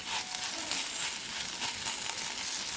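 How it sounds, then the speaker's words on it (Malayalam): A dish sautéing and being stirred in a pan, giving a continuous crackling sizzle with scraping stir noises throughout, close and steady with no talk. "കുറച്ച് നേരം കൂടെ നമുക്കിതിനെ ഒന്ന് ഇങ്ങനെ വരട്ടിയെടുക്കാം."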